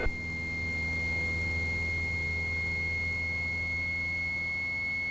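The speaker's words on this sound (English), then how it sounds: "Did you hear Lancaster VOR Morse?" Lancaster VOR Morse code identifier tone over aircraft radio, a steady faint high beep tone over constant cockpit engine drone, no talk.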